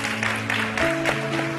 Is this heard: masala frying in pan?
no